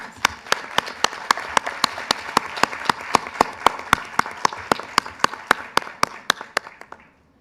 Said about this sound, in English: I would suggest we applaud and congratulate all